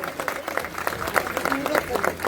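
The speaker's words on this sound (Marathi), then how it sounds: "त्यांच्यासाठी एकदा जोरदार टाळ्या झाल्या पाहिजे" An audience applauds Arvind Ghatti at a felicitation ceremony, a steady patter of many hands clapping at moderate loudness for a couple of seconds.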